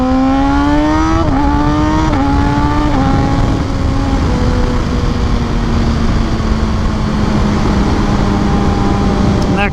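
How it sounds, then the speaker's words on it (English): A motorcycle with a quick shifter rides on a mountain road, its loud engine revving up, dropping pitch in quick gear shifts near the start, then holding a steady drone throughout. "But this bike sounds amazing."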